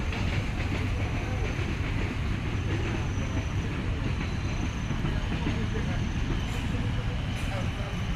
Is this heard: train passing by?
yes